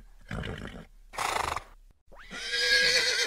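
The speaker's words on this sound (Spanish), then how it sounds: "Si respondiste caballo, es correcto, muy bien." A horse neighs in short bursts, then gives one long, loud, shrill whinny that sweeps down and trails off, heard close and alone with brief silent gaps between the calls.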